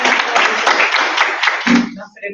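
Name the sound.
audience applause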